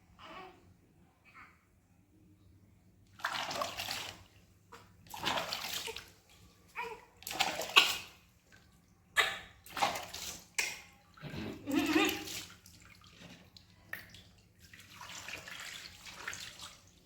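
Water poured over someone during a bath comes in a run of repeated splashing bursts, each a loud close gush separated by short pauses, with faint talk in between.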